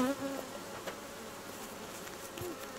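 A steady, close drone of local-population honey bees buzzing around a hive, with no talk over it.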